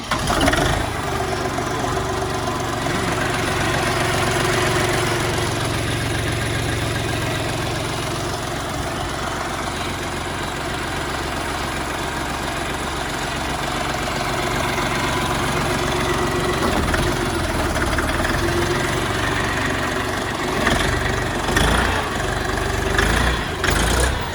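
A Xingtai 240 mini tractor engine turning over and settling into a steady idle, a loud continuous diesel rumble close by with a few louder bumps near the end.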